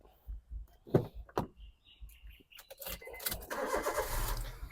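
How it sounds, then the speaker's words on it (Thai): A 2012 Honda City in top trim starts up with a brief crank, then its engine catches and settles into a steady idle, heard close by after a few clicks and thumps. "รถสตาร์ทที่เดียวติดเลยนะครับผม"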